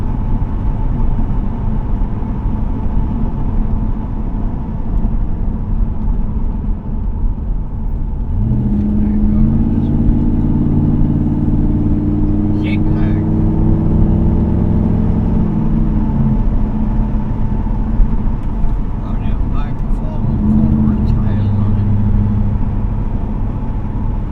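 A 1982 Corvette with Crossfire Injection cruising on the road, a steady engine drone with a rising rev in the middle, heard from inside the car alongside some talking.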